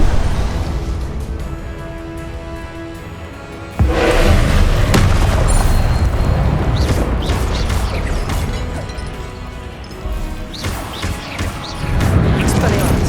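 Confringo spell explosions in Hogwarts Legacy during a fight against a giant: sudden loud booming blasts with crashing debris, rising from a quieter stretch of steady tones, with someone talking intermittently over the game sounds.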